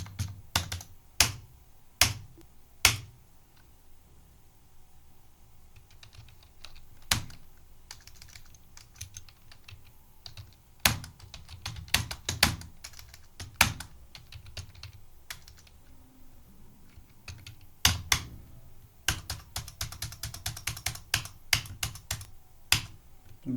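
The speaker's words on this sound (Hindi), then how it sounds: "अब यहाँ पर बैंक का नाम लिख देना है।" A bank name is typed on a computer keyboard while a ledger is created in TallyPrime accounting software. Clicky keystrokes arrive in short bursts with pauses between them, ending in a quicker run of taps.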